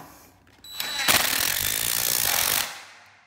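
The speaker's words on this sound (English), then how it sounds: "So I'm going to let the bolt pull the T-nut" A bolt is driven with a power tool to pull a T-nut into soft pine on an attic ladder joint, giving a loud, steady grinding whir of about two seconds that ends abruptly.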